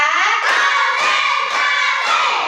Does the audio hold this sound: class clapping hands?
yes